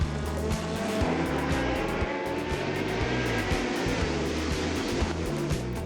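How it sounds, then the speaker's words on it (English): A 1971 Ligier JS3 prototype race car at the Le Mans Classic, its engine roaring loudly and steadily at close range, with a rough, continuous note and no talk over it. "Jacques Nicolet could not drive another car than this JS3 from 1971, a Ligier prototype"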